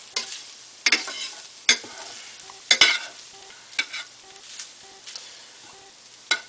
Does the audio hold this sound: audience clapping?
no